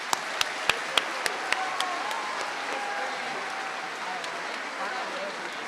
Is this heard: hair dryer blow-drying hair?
no